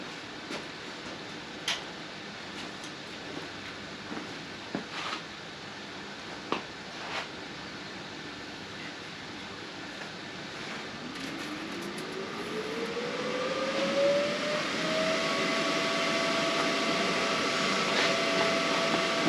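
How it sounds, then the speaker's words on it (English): A welder is switched on, then its loud cooling fan spins up with a rising whine that settles into a steady whir, preceded by a few sharp clicks against a quiet hiss. "Turn the welder on."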